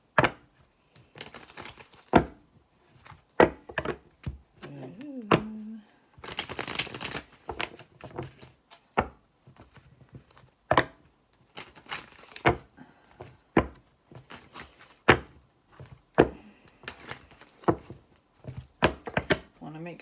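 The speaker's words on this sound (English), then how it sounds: "Make sure these cards are shuffled good." Tarot cards being shuffled by hand for a weekly reading, a series of sharp riffling slaps and soft thuds in irregular bursts, close and fairly loud, with a voice speaking briefly between them.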